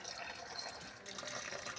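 A tap runs with a steady, faint gushing hiss of flowing water that continues without break for a couple of seconds.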